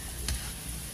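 Cireng, a tapioca snack, fries in oil over a low flame, making a faint, steady sizzling hiss with one brief crackle near the start.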